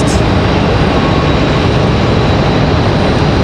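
A Boeing 777 taxis toward the runway end at Raleigh-Durham International Airport, a loud, steady, broadband jet engine roar that holds level throughout.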